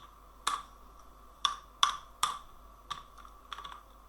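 A computer keyboard clatters as HTML code is typed: six or seven separate, crisp keystroke clusters spaced unevenly over a few seconds, close and clear against a quiet room.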